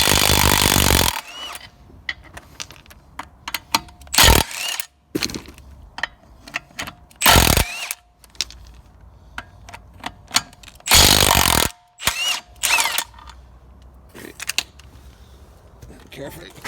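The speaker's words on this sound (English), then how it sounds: "Now using our Milwaukee drill, we can undo the nuts." A Milwaukee cordless drill undoes the wheel nuts on an Audi TT, its motor whirring in several loud bursts of a second or so, separated by quieter clicks and rattling of the nuts being handled.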